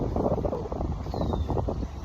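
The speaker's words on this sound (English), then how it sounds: "It's kind of windy." Wind buffets a microphone outdoors, producing a continuous, close, low rumbling roar that swells and dips unevenly.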